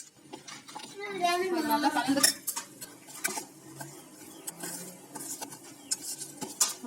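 Roasted, skinned peanuts stirred into homemade chocolate, a spoon clinking and scraping softly against the bowl in quick bursts, under a voice speaking.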